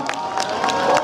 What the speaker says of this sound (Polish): Państwa, proponuję wielkie brawa.